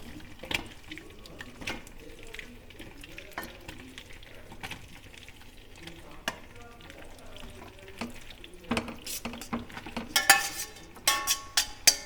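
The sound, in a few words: cooked pasta added to a pan with mayonnaise sauce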